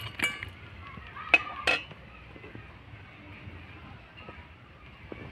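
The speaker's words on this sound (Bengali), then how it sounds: "সিরাপে একটু একটু করে এইভাবে আমি নেড়ে চেড়ে নেব।" Fried pitha turned in sugar syrup with a metal utensil, giving a few faint clinks and scrapes against the pot over a quiet background, then gentle soft stirring.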